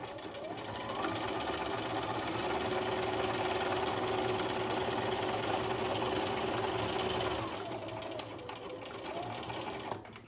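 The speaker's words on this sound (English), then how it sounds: "I'm going to sew a 5/8 inch seam" A sewing machine runs continuously and loud, stitching a 5/8 inch seam for a flat felled seam, a steady whirring hum that slows and eases off near the end, with no voices over it.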